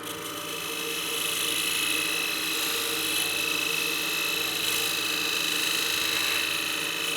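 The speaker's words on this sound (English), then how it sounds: "We'll turn our lathe back on." A wood lathe spins at around 1700 RPM with a steady, even motor whine and hum, constant and unbroken throughout, no voices over it.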